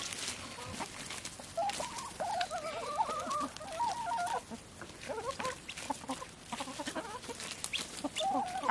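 Several chickens cluck and murmur nearby, a busy run of soft repeated clucks with occasional louder calls.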